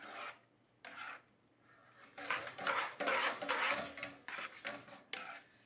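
Metal tongs clatter and scrape against a pan while tossing linguine with clams, lemon juice, parsley and broth, in repeated close bursts of clinking and rubbing with short pauses between.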